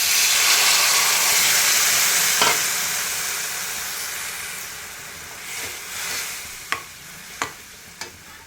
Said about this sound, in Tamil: நல்லா கொதி வரட்டும்.